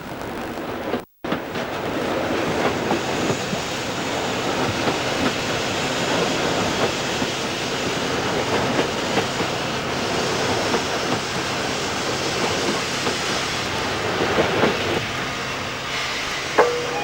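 A London Transport steam train runs on the Chesham branch of the Metropolitan line in the 1960s, a steady close rumble of carriages rolling along the rails with faint clickety-clack, continuous throughout and with no talk.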